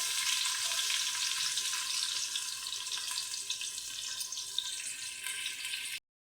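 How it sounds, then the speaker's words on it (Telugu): Onions and green chillies frying in three spoons of hot oil for a mutton egg curry, a continuous bright sizzle that stays loud and even, then cuts off abruptly. "రెండు ఉల్లిపాయలు ఈ విధంగా వేగాయి కదా"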